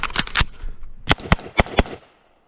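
Sharp, loud gunshots from a BCA 20-inch retro M16A4-style rifle: a quick burst of shots, then four distinct spaced cracks with brief echoes, ending in silence.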